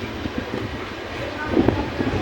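Alamatti railway station ambience in Karnataka with a rolling, rumbling train and rhythmic clacking, steady and fairly loud, with a murmur of voices in the background.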